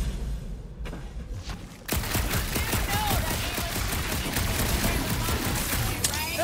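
Rapid gunfire in the Guardians of the Galaxy video game, a sustained dense barrage of shots that erupts suddenly after a quieter, dark opening and keeps going loudly to the end.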